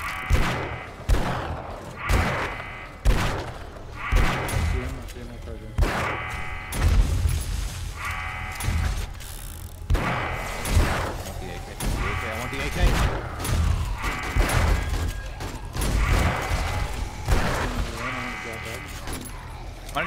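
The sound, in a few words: gunfire in the video game 7 Days to Die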